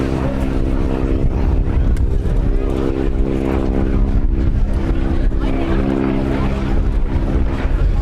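A vintage Boeing Model 75 biplane, built in 1943, at an airshow at Little Gransden Airfield, with a steady, loud engine drone holding throughout, blended with wind buffeting on the microphone.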